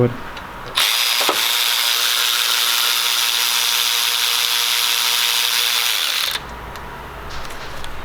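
A Snap-on or Milwaukee 1/4 inch extended reach power ratchet whirs loudly and steadily for about five and a half seconds, rattling a tabletop, then stops abruptly.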